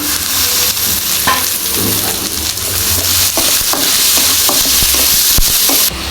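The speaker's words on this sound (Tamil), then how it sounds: "பெரிய தக்காளி கட் பண்ணி வச்சுருக்குறோம் அதையும் சேர்த்து நல்லா வந்து ஃப்ரை பண்ணிக்கலாம்" Chopped tomatoes frying with country chicken in a pan, a loud close sizzle with repeated stirring clatters and scrapes, no voices.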